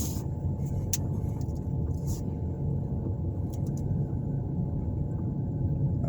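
Car driving through school parking lots in Elyria, Ohio, a steady low engine and road rumble heard from inside the vehicle, with a few faint clicks and ticks on top.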